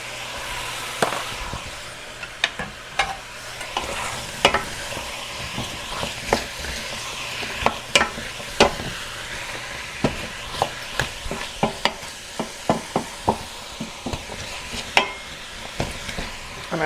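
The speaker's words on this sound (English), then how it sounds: "I stir often so that the bottom doesn't cook and the top stays uncooked" Jamaican curry chicken stirred in a pot, with many sharp irregular scrapes and clanks of a spoon against the pot over a low steady sizzle, close and without voices.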